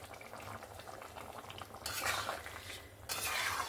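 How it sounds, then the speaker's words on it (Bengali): A spoon stirs fish curry with kohlrabi and potato in a pot, scraping and clinking against the metal with a soft bubbling simmer, louder in two bursts, close up. "গরম মশলা ধনেপাতাটা দিয়ে আবারও একবার নাড়াচাড়া করে নিলাম"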